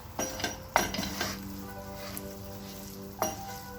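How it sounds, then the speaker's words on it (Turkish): Walnuts stirred into roasted flour for halva in a pan, a soft sizzle under scraping strokes with a couple of sharp utensil clinks against the pan, close and fairly quiet. "cevizimizi döküyoruz ve kavurduğumuz malzeme ile karıştırıyoruz"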